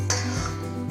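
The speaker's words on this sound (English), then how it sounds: "You will lightly whisk it." Light whisking in a bowl of banana bread ingredients, a quick clink of metal against the bowl followed by soft ringing and faint scraping, close and quiet.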